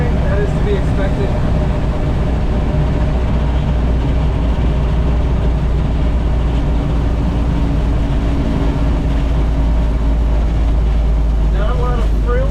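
1930 Ford Model AA truck driving, a constant low engine drone and road rumble from inside the cab that persists steadily throughout.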